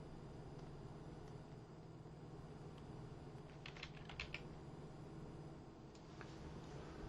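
Computer keyboard typing while writing Visual Basic code, heard as faint scattered key clicks with a short quick burst in the middle, over a steady low room hum, with no talk.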